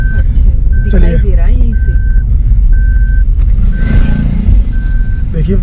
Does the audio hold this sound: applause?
no